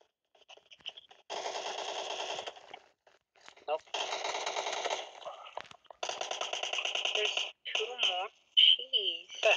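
Rapid automatic gunfire from the player's weapon in the mobile shooter PUBG Mobile, loud and close, in three long sustained bursts followed by a few shorter sharp volleys.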